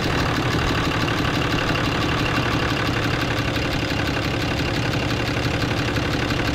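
Cummins diesel truck engine idling, a steady, loud mechanical rumble with a rapid, even clatter that holds without change throughout.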